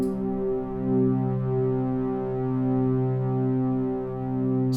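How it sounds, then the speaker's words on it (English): A sustained, rich Arturia OB-Xa V synthesizer pad with stereo voice spread and maximum detune holds a steady chord with slow, gentle swelling and wavering, continuous and fairly loud throughout. "Just listen to the contrast that the voice spread is giving us, stereo spread."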